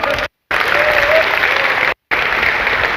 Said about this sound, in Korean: 박수 한번 주시면 감사드리겠습니다.